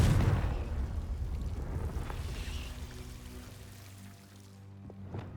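A Confringo blasting spell bursts loudly at the start in the Hogwarts Legacy video game, its rumbling blast decaying over several seconds, with a smaller pop near the end.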